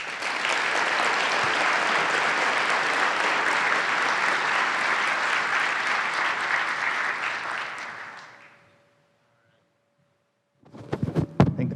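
An audience at a regional planning council's State of the Region event applauds steadily and loudly for about eight seconds, then fades to silence before a brief burst of clapping returns.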